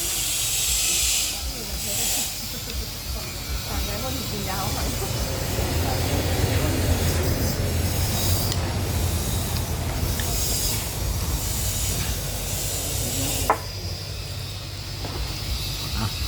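Wind blows hard into the microphone in gusty, roaring rushes that swell and fade across the whole stretch, loud and close, with brief calmer gaps and a sharp bump near the end.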